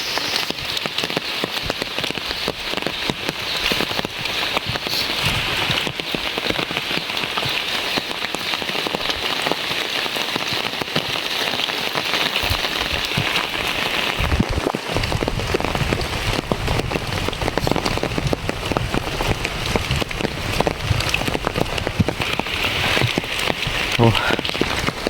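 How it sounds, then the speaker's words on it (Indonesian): Steady rain pours down on hard surfaces in a village, with dense patter and dripping throughout, loud and close, without pause. "Hujan agak lumayan lah kalau segini ya teman-teman."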